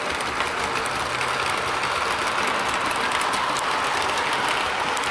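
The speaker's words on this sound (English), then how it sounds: "I've got the Seacow wagons running around the layout, and they're being pulled by the Helgen Class 33" Model Seacow wagons pulled by a Helgen Class 33 locomotive run around a model railway layout, giving a steady, even rolling whir with a faint rhythmic rattle of small wheels on track throughout.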